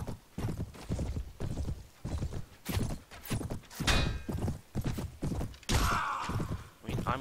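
Steady clip-clop of horse hooves at a canter in Mount & Blade, mounted knights in battle, rhythmic and close, with brief whinnies and clashes of combat mixed in.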